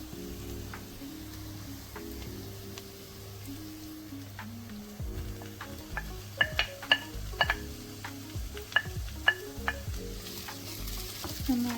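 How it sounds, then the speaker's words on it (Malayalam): Mushrooms tossed into a pan of sautéed onion, sizzling steadily with soft stirring, then a run of sharp spatula clicks and scrapes against the pan, close and moderately loud, with no voices. "ഇതിലേക്ക് ആവശ്യത്തിനുള്ള മഷ്റൂംസ് ആഡ് ചെയ്ത് കൊടുക്കുക"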